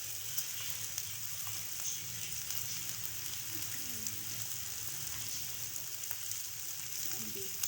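Cumin seeds sizzle in a pan for a chicken kachori filling, a faint, even crackling hiss with scattered tiny pops, steady throughout and with no voices.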